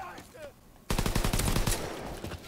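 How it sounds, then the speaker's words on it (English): Rapid machine pistol fire in the World War II shooter game Call of Duty: WW2 erupts suddenly after a quieter stretch, a loud, dense burst of shots rattling for over a second amid in-game background noise. "I evaluate the World War II machine pistol"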